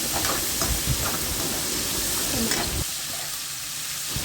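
Onions and cardamom frying in oil in a pan for masala paneer: a steady close sizzle and hiss that thins out toward the end, with faint stirring.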